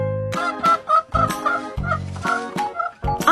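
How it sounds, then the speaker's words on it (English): A cartoon hen clucks in a short series of bright, choppy calls, alone and close, in a children's phonics song. "H is for hen."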